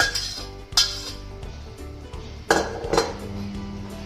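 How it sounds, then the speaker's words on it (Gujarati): Boiled vegetables go into pav bhaji gravy in a pan, with metal clinks and clatters of a spoon and cookware, a couple of sharp knocks standing out over a soft background hum, close up and without speech. "હવે આ ગ્રેવીમાં બાફેલા શાકભાજી નાખીશું"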